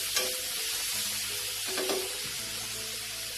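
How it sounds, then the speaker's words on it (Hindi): Chopped tomatoes and green chillies get stirred into sizzling masala in a pan over a low gas flame, a steady close frying hiss with a few scraping stirs of the spoon. "अब वो हम इस मसाले में डाल देंगे और इसे भी मिलाएंगे।"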